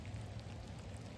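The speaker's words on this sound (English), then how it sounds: "Clean yard by headlamp in the rain." Steady rain falling outdoors in a yard at night, a dense, even hiss of drops with no pauses, fairly faint and close.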